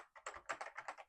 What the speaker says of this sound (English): the way you do that is by typing